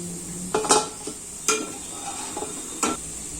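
Coconut burelu, sweet fritters, frying in hot oil give a soft steady hiss, broken by a few sharp metal clinks of a utensil against the pan. No voices.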